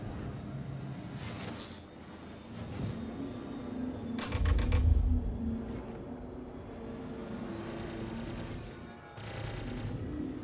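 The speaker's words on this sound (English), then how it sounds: "Prepare for the missile spam." Missile spam in a combat flight video game: bursts of rapid launches and explosions rise and fall over a continuous engine drone, with one heavy rumbling blast in the middle and another burst near the end.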